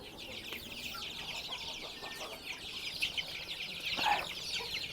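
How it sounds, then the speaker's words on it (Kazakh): Newly hatched chicks fed Purina feed cheep in a dense, continuous chorus of high peeps. The peeps overlap close by with no pauses, and one louder burst comes near the end. "кеше бүгін шыққан балапандар."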